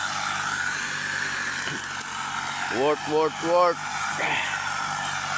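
Gas grass cutter engine running steadily while cutting tall weeds around string bean plants on a farm, a continuous motor drone with someone talking over it in short bursts.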